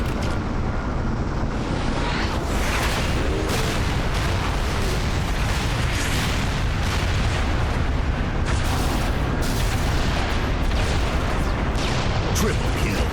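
An artillery barrage in Halo: The Master Chief Collection, on the Heavy Mettle challenge, fills the scene with a steady, loud roar of rumbling explosions and booms, with voices cutting in at times.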